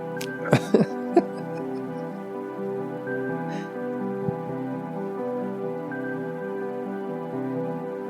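Coughing and throat clearing right after exhaling a long-held lungful of cannabis smoke, a few sharp bursts early on, then quiet breathing over a low steady background hum.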